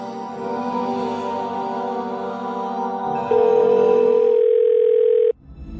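A telephone call rings out unanswered as a steady electronic tone, which shifts to a louder single pitch for about two seconds and then cuts off abruptly.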